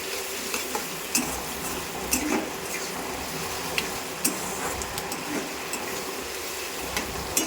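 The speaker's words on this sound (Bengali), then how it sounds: "এরপরে আমি পেঁয়াজটা আর লঙ্কাটা ভালো করে ভেজে নেব।" Chopped onion and green chili frying in oil after a mustard seed tempering, a dense continuous sizzle with sharp spatula clicks against the pan at irregular intervals, close up.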